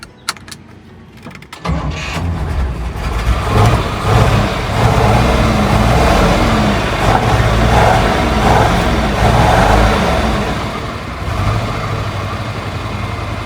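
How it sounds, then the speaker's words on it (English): A 1976 Chevrolet Squarebody truck engine, run for the first time in 20 years, starts and then idles steadily, a low continuous rumble that stays close and loud. "It's idling just fine."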